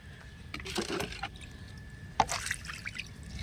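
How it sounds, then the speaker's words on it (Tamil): Panchagavya liquid poured onto a heap of weed compost gives soft, intermittent trickles and splashes, a few short wet bursts in a quiet outdoor setting. "இப்போ நாம் கடைசியாக இந்த பஞ்சகவ்யாவை நல்லா தரோவாக ஊற்றி விட்டுறலாம்."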